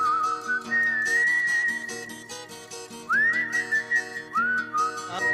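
A man whistles from the roadside as a signal, a bright, sustained melodic whistle with rising slides, heard clearly over steady instrumental music.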